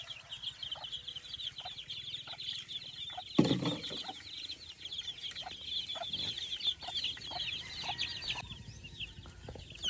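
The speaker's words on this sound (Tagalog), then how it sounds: "Ayan ang mga sisiw niya." A hen with her chicks out on a farm range, giving soft repeated clucks over a steady layer of high chick peeping, moderately loud and continuous throughout, with no voices.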